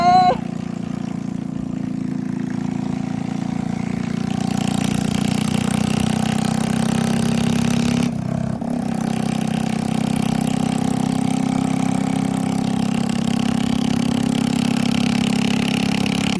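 A Hero Splendor motorcycle with a broken silencer idles close by, a loud, steady, throaty engine drone with a strong low rumble that holds evenly, briefly dipping midway before continuing.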